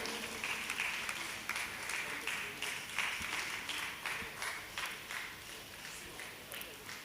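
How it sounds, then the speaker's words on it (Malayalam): Audience at a Palakkad cultural stage event clapping steadily to honor a guest, a dense, continuous wash of many hands that holds at an even level throughout, moderately near. "അദ്ദേഹത്തെ നല്ലൊരു കയ്യടിയോടുകൂടി നമുക്ക് ആദരിക്കാം."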